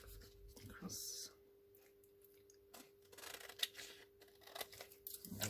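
Scissors trim paper in short, quiet snips with soft crinkling between cuts, close and faint against a low hum, with a quiet voice murmuring nearby.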